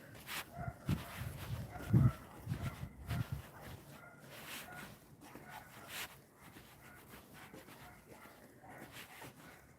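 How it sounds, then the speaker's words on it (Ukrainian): Several dog barks in the distance from private yards, irregular and clustered early on, with footsteps and outdoor ambience continuing afterward. "Собаки, правда, гакають."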